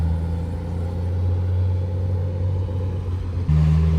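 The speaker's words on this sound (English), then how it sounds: "Random Gunther Works, driving by," A Gunther Werks supercar passes at a Miami car event, a steady loud engine rumble that holds low and strong, then swells sharply near the end as the car draws close.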